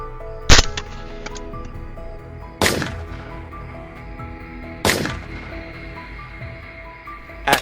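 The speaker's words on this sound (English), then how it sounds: "Gunfire continued to ring out steadily in the quiet space of the night" Three sharp gunshots ring out at spaced intervals during a night wild boar hunt on a farm in Georgia, each loud crack trailing into a short echo over a quiet background.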